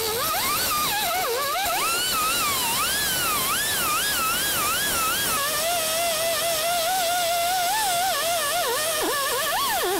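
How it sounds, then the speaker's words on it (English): Grinder grinding down welds on a GMC Yukon rocker panel, a loud high-pitched whine that wavers and dips as the disc bites into the metal, continuous and close. "Now I'm going to take the grinder and just go through, grind this down."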